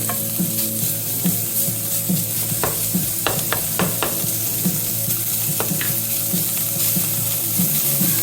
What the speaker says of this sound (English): we're gonna throw the bacon in here